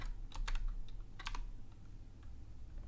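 Rapid, light clicks of keys on a computer keyboard while typing Thai text, in short irregular bursts over a low background hum.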